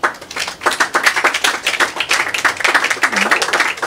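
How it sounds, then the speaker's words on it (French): A live studio audience claps for itself at a public talk event, dense irregular hand claps filling the room steadily throughout, with a brief voice underneath near the end. "Applaudissez pour vous-même."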